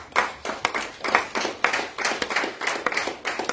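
A church congregation claps in praise of the Lord, with rhythmic, fairly close hand claps at a steady brisk tempo that continue throughout.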